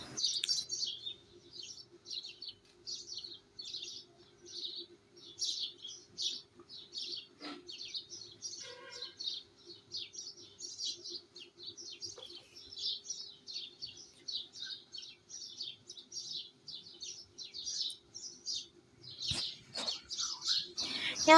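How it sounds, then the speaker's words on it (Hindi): Many small birds chirp and twitter continuously at dawn in quick, overlapping bursts, fairly distant and soft over a quiet, low hum. "चिड़ियों के चहचहाने की आवाज़ें आने लगी, और बहुत प्यारी प्यारी आवाज़ें आ रही थी परिंदों की।"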